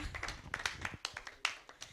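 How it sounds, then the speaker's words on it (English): A panel audience gives faint, scattered applause at a distance, a thin spread of claps fading over two seconds. "A round of applause to our panel."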